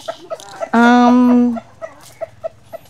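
Chickens cluck in short, repeated bursts nearby, interrupted by one long, loud squawk from a bird lasting under a second, then the clucking resumes.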